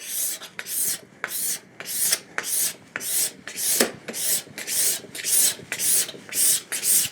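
A card scraper shaves wood into curls in repeated rhythmic strokes, each a short bright rasping scrape, about a dozen in a row with brief pauses between, close and clear.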